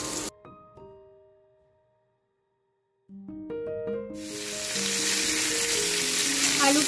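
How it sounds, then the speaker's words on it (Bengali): Potatoes frying in oil with cumin and bay leaves burst into a loud, close, hissing sizzle partway through that keeps building, with a melodic musical tune playing before and beneath it. "আলুটা আমি একটু ভালো করে ভেজে নেব।"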